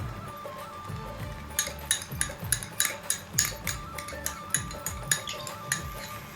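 Kerala-style aviyal vegetable curry is gently mixed with curd in a pot, with a spoon scraping and clinking against the metal in a steady rhythmic series of close, distinct taps and no talk.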